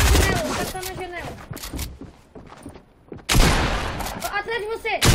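Rapid bursts of gunfire in a shooter video game, loud cracks clustered at the start and end with a quieter gap between, mixed with game noise.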